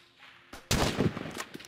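Gunfire in the video game Rust: a sudden loud burst of rapid shots, dense and close, after a brief quieter lead-in.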